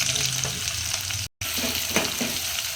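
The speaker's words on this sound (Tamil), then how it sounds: "நல்லா கோல்டன் ஃப்ரை வர வரைக்கும் நல்லா இந்த மாதிரி கிளறி விட்டுக்கலாங்க" Sliced onions fry in a pan for vegetable biryani and are stirred, a steady sizzle broken by spoon scrapes and clatters, with a momentary dropout about halfway.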